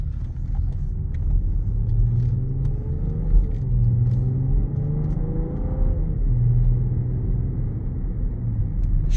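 A 2024 BMW X6 xDrive40i on the road, heard from inside as a steady low cabin rumble with a soft engine note rising and falling.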